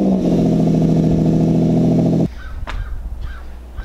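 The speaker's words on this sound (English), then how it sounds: "But right now, I think y'all deserve a little cold start." A truck engine on a cold start rumbles loudly and steadily up close for about two seconds, then cuts out abruptly, leaving quieter outdoor background with a few faint knocks.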